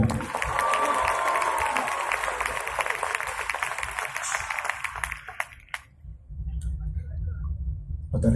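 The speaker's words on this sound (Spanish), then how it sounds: "Un aplauso merecido" Crowd at a live concert applauding and cheering, a loud sustained wash of clapping and shouts that fades out abruptly after about five seconds, leaving quieter low sounds.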